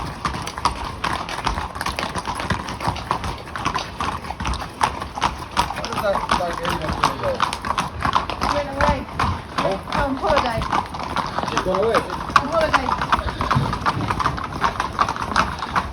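Horses gather and walk around a front yard before heading to training tracks, hooves clip-clopping in a steady, overlapping patter while someone talks over them.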